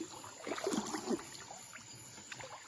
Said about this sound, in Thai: น้ำไหลลงมาจากบนเขาเนี่ย